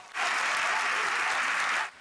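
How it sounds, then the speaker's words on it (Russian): Thousands of people gathered in a square outside the parliament burst into dense applause for Puigdemont's independence declaration, a loud, sustained wash of clapping that starts and stops abruptly. "Заявление Пучдемона встречают овациями"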